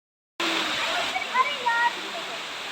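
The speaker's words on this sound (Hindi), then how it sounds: "तो ये है एलिफेंट वाटरफॉल का थर्ड स्टेप।" Third tier of Elephant Falls in Meghalaya pours down in a steady, close, broadband roar of rushing water that continues unbroken after a brief silent start.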